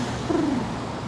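Pigeons coo once in a short, low, rolling call on a New York City street during a commute toward Chinatown, heard over a steady wash of traffic and city noise.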